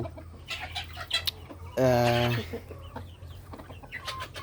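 Hill chickens, hens and a rooster on a farm give soft clucks near and close, with one louder sustained squawk in the middle.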